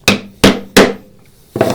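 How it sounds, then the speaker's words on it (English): Hand chisel struck with a mallet, cutting wood across the grain during hand-tool joinery for a pocket hole: three sharp, close, loud knocks in steady rhythm, a pause, then a fourth blow. "I'm going to come in and remove some material. And I love this part. Across the grain. I don't know if I say that enough, but I love chisel work."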